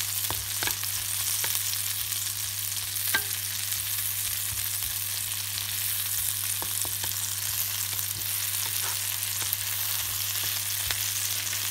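Chili and garlic sizzling in butter in a pan for prawns, a steady close frying hiss with small pops and stirring clicks throughout and a low hum beneath.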